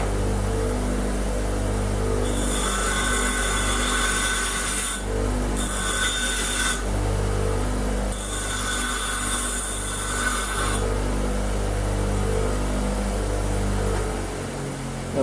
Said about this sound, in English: To get more aluminium over the head of the bolt, I've decided to grind some of the head back